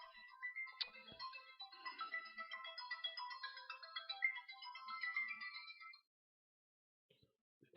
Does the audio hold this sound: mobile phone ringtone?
yes